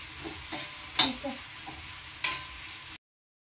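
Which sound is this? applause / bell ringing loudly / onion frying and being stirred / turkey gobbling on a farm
onion frying and being stirred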